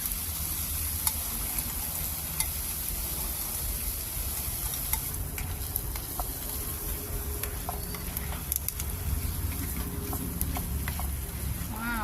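Shrimp and salted egg sauce, with onion and carrot, sizzling and frying in a pan, a steady close crackle with occasional stirring clinks throughout.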